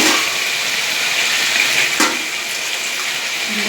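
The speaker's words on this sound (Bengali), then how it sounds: "সুন্দর ভাজা ভাজা হয়ে গেলে একটু জল দিয়ে দিলাম" Water is poured into a pan of fried masala, producing a loud, continuous rushing gush with a faint hiss beneath it that holds steady throughout, with no voices.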